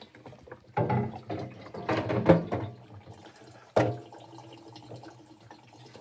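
Condensed water poured out of a washing machine's collection container, splashing in a few uneven bursts with quiet trickling between them, heard close up and without speech.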